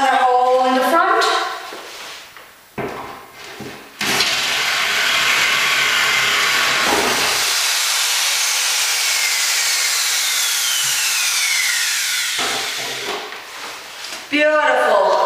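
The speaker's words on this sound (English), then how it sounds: "Now I'm drilling another hole in the front." A power drill bores a hole through the front of a cabinet for a drain pipe, whining loudly and steadily for several seconds, while someone talks before and after.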